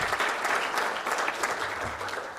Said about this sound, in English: Whitney Bruner, give a round of applause.